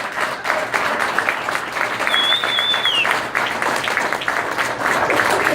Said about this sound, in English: give yourselves, all of yourselves, an amazing round of applause, please.